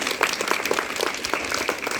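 A crowd claps for a girl who topped her district in the UP Board exams, at a school yoga awareness event in Prayagraj, with dense, steady applause for about two seconds.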